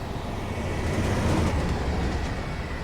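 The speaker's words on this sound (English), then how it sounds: "Oh, freight train." A freight train with mostly empty wagons passes in Train Simulator 2019: a steady, broad rumble and rolling clatter at constant loudness for the few seconds, with no voices.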